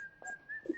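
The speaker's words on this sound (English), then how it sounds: "playing the Kill Bill whistle music right now in the background" Kill Bill whistle tune playing faintly in the background, a thin sustained whistled note with short bursts of tones, quiet and alone.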